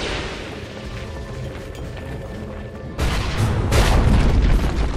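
A Dota 2 tower collapses in a video game, a heavy low rumbling boom that swells halfway through over dense game noise and holds loud to the end.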